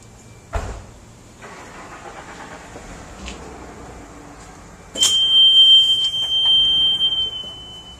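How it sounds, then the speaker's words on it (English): After a quiet stretch with a thump, a plastic bending table's warning alarm sounds a steady high-pitched electronic tone that holds continuously for several seconds alongside machine noise. "And then it will sound an alarm."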